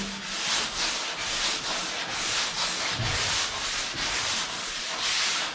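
Sanding primer on a car quarter panel produces close, even scratchy strokes in a steady back-and-forth rhythm of roughly two per second, continuous throughout with no voices.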